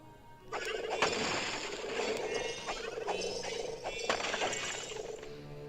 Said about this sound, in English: Tooth has unsettling bird noises